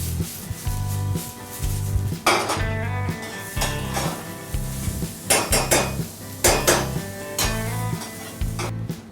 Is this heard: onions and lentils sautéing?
yes